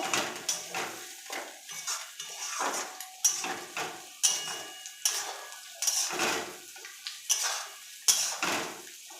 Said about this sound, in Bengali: টমেটো কুচি দিয়ে দিচ্ছি তেলের উপরে। আবার ভালোভাবে নেড়ে নেব।